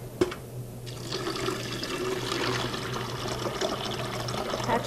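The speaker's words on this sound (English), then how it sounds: "Add the water." Water pours steadily into a soy milk maker, a continuous splashing rush under a low appliance hum, with a faint click at the start.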